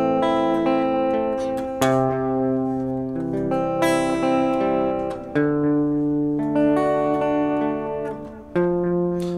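House of the Rising Sun on guitar, picked bass notes under arpeggiated chords, a steady flowing pattern of ringing notes that plays alone and up close.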